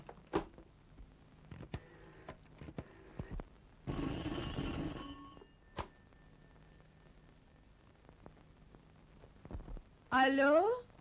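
Rotary-dial telephone sounds in an old Turkish comedy film: clicks and a buzzing stretch of dialing, then a brief warbling ring at the end, with someone speaking in between.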